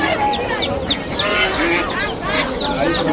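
Chickens cluck and chirp in a crowded bird and animal market, many birds calling at once close by, with people talking underneath.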